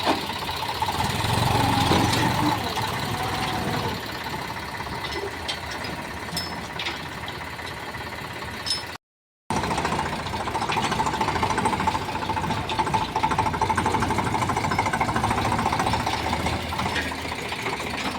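A steady engine idles with a low rumbling chug throughout, briefly cutting out midway before resuming at the same level.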